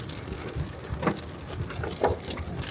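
Hail pelts a moving car during a thunderstorm on a drive through Slovenia, a dense, steady patter with a couple of heavier, louder strikes standing out, close and without talk.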